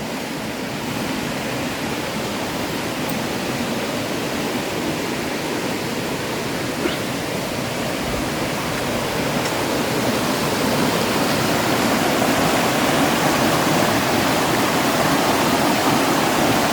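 Kemmanaballi waterfall near Jalsoor, Sullia sends water crashing down in a steady, dense roar. The sound is loud and close, unbroken and even throughout, with no voices.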